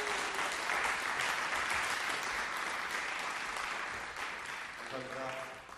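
Hearty applause from an audience welcoming a speaker at a lecture event, loud dense clapping that slowly fades, with a voice starting to speak at the end.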